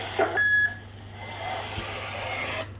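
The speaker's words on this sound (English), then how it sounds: "Well, I'm getting the Roger beep." A short electronic roger beep from an SBE CB radio sounds once near the start, over a steady low hum and radio static hiss.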